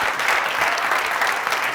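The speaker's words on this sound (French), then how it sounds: "Applaudissements, s'il vous plaît." A TV studio audience at a New Year special applauds steadily, a dense wash of clapping that holds at an even loudness from start to finish.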